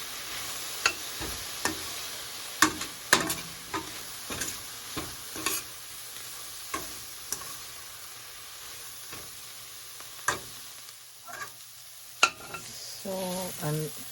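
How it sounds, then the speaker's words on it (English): Onions and spices sizzle steadily in a pan for homemade chili while a utensil scrapes and clacks through them in periodic stirring strokes, ending in a louder bubbling hiss. "so I'm going to just saute this. Alright, I'm going to put in the spices now. Let's cook it. Give it a stir."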